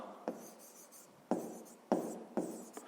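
A pen or chalk writes a short maths answer, giving four scratchy strokes at uneven intervals, quiet and close with little else around.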